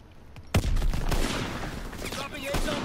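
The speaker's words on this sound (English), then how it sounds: "He's trying to shoot at me." Gunfire in the World War II shooter Call of Duty WW2 on a snowy map: a sudden loud burst of shots erupts and continues as dense, sustained firing with overlapping cracks, with a voice faintly talking underneath.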